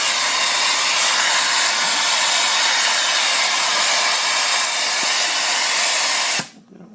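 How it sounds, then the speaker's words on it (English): Compressed air hisses steadily and loudly through a venturi vacuum press valve used for clamping a ukulele bridge, a constant broadband rush that cuts off abruptly near the end. "Easy fix, and we'll turn on the valve."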